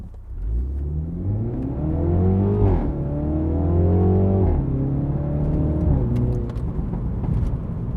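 MINI Clubman Cooper S F54 with four-wheel drive and stage 1 tune accelerating hard on the road, engine note climbing through two gear changes with steady loud revving, no voices.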